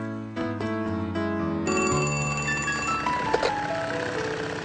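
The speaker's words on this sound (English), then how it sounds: "does anybody mind if I use the phone for a second to call Pearl?" A telephone rings with a loud, steady electronic trill of repeated tones that shift in pitch partway through, sounding alone without talk.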